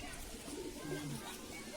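A pigeon gives soft, low coos, faint and close under a steady background hiss, with a voice talking over it.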